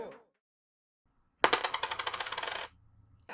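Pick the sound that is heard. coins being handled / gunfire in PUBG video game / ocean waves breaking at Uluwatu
coins being handled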